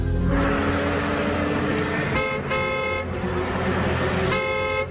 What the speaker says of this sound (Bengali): ঘন ঘন হর্ন শুনে মনে হচ্ছে গাড়িটা খুব জোরে ছুটে আসছে।